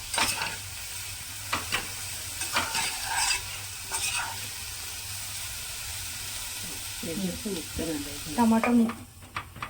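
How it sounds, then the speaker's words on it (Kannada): Tomato sizzling and frying in a pan for a drumstick (nugge kayi) palya, a steady oil hiss with scattered clinks of a spoon stirring and a brief voice near the end. "ಟೊಮೊಟೊ ಚೆನ್ನಾಗಿ ಫ್ರೈ ಹಾಕಬೇಕು"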